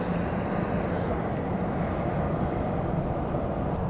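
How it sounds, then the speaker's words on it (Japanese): Airplane engines at Fukuoka Airport, with planes queued for takeoff, produce a steady, broad, rumbling roar that fills the scene at moderate loudness without voices. "エンジンの轟音とガソリンの匂いがすごい感じられてめっちゃいいんですよね。"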